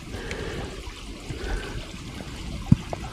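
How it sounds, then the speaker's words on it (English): Spring water running downhill toward a creek on rural California acreage, a steady close trickle and gurgle with a soft rushing background, one small splash near the end. "I think in the spring here, just flowing down like crazy right there."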